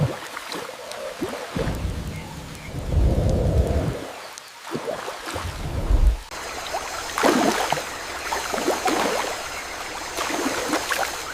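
Rain falls across the African savannah, a soft hissing wash with bursts of heavier pattering and low rumbling swells, moderately distant and without voices.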